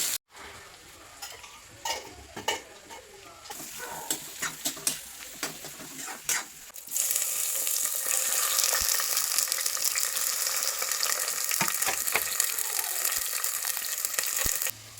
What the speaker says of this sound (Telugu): ఆనియన్స్ మిర్చి ఇవి వేసి బాగా ఫ్రై అయ్యాక చికెన్ వేస్తాను